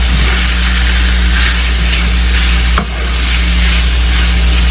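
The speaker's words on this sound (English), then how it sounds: "I put 5 pieces of drumstick to boil in this boiling water" Steady bubbling and hissing of a pot of boiling water with five chicken drumsticks in it, a continuous dense rumble with a brief clunk near the end.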